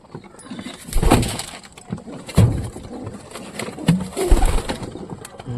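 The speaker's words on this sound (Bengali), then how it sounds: "সব কবুতরগুলো খুব সুন্দর খাচ্ছে" Pigeons coo while being fed, with soft, repeated close-range coos mixed with muffled thumps and fluttery bumps of birds moving about.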